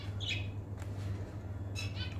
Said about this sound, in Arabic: هذول طيور الحوم.